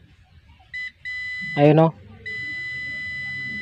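A multimeter's continuity buzzer beeps with a steady electronic tone while testing a shorted component on a Bluetooth speaker board. One brief beep is followed by two longer sustained tones, with someone briefly speaking between them.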